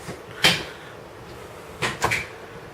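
A door on an indoor film set opens as an actor walks in: a sharp wooden knock or creak-click near the start, then two close clunks about a second and a half later, with quiet room tone between.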